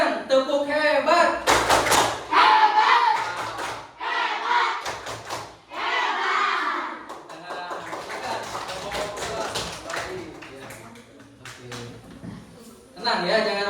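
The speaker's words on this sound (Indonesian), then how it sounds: "tepuk hebat, tepuk hebat." Elementary fourth-grade classroom doing the 'tepuk hebat' rhythmic clap chant: bursts of group clapping in a patterned beat, mixed with children's voices chanting and a teacher speaking between rounds.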